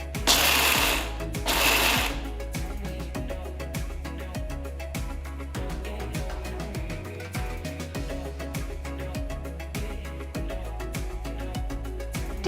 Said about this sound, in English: Transfer the peanuts to a mixer jar and coarsely grind it.